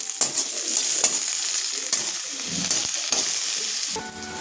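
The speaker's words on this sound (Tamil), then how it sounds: "கருவேப்பிலை போடுறோம். வெங்காயமும் போட்டாச்சு." Curry leaves and onion dropped into hot oil in a pan for a fish curry, a steady close sizzle and crackle with intermittent stirring scrapes, no speech.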